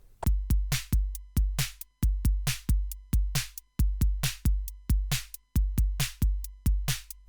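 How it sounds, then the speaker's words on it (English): A Pocket Operator synthesizer, triggered by an Arturia KeyStep, plays a steady rhythmic pattern of sharp, punchy percussive hits with decaying tails, looping evenly and alone. "We can hear that the pocket operator played."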